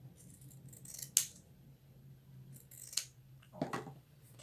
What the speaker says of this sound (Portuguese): é só a gente cortar aqui bem próximo da nossa costura, dos dois lados